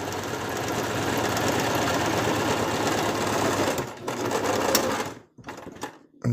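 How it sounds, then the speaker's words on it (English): A sewing machine stitching a costume, running continuously in a fast, even mechanical whir and needle chatter, close and loud, then stopping and briefly starting again near the end. "I'm going to go ahead and sew the arches here."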